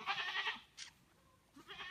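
A few bleats from goats that got out, one longer call, a short one, then another, fairly quiet with brief pauses between them.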